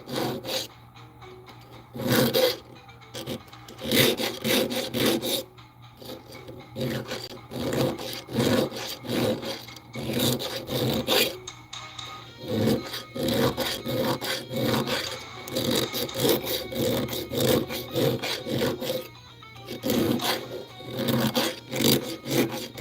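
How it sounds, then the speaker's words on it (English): A round file rasps against a wooden workbench in repeated back-and-forth strokes, close and loud, with brief pauses between bursts of scraping. "circle file that might work a little bit better"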